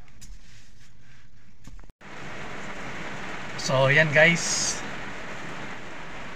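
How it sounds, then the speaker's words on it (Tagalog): Heavy rain pouring during a storm makes a steady, dense hiss throughout, and someone speaks briefly over the downpour partway through. "bumuhos na naman ang malakas na ulan."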